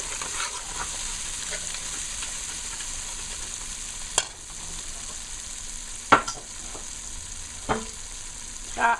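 Egg curry ingredients fry over medium heat in a pan, giving a soft, steady sizzle with a few sharp stirring clacks and spatters standing out.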